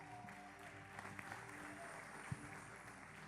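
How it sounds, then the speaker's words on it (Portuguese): Audience applause welcoming a guest speaker at a church event, a fairly faint, steady patter of clapping with a low hum and a few brief knocks beneath it. "você pode receber o Asaf com uma bela salva de palmas?"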